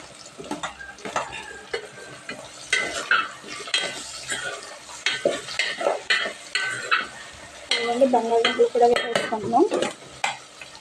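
Broad beans and potatoes stir-frying in a pan, with close, busy scraping and clattering from a spatula against metal over a constant sizzle, no talking.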